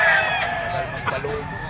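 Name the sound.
chicken rooster crowing and clucking, Lemon 84 bloodline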